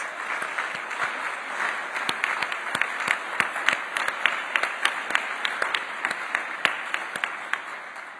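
Applause from guests at a Pennsylvania Senate ceremonial celebration, a dense room of clapping hands with sharp individual claps popping out, steady and fairly close for several seconds before tapering slightly.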